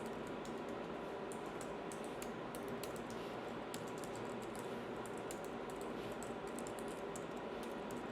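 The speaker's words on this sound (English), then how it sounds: "now you're just going to type in your personal information" Soft, fast tapping on a computer keyboard runs continuously beneath a faint background hiss, close and fairly quiet, with no one talking.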